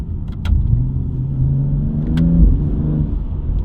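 A BMW M3 in sport mode revs hard, its engine note climbing and holding in a steady, loud, close-up drone with a couple of sharp ticks at the start and midway.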